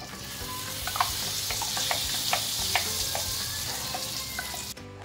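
Blended spinach gravy sizzles in a pan of masala while a spoon stirs it, making steady frying hiss with repeated clicking scrapes up close.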